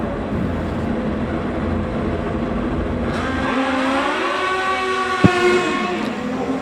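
A Kawasaki-powered Top Gas drag racer runs at a loud, steady roar, its engine pitch rising through the second half with a brief sharp crack near the end.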